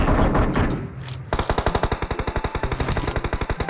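Rapid automatic gunfire from a FAMAS rifle in PUBG Mobile, a steady burst of evenly spaced loud shots beginning about a third of the way in and continuing to the end, after a brief quieter stretch of game ambience.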